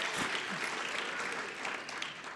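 Applause from a conference audience, a broad continuous wash of many hands clapping at a moderate distance, holding steady for the whole stretch.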